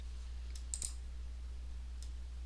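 Computer mouse clicks sound faintly over a steady low electrical hum, a quick cluster of light taps followed by a single click after a pause.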